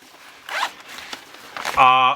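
Someone handles a clamshell-opening pouch lined with EVA foam, with soft fabric rustling, then a quick, loud close zip of its zipper at the end.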